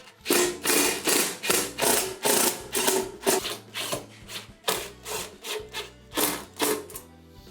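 Screws are driven in to mount a new broil element in a KitchenAid oven, giving a close series of rhythmic ratcheting, scraping strokes with short pauses between them, and no talking.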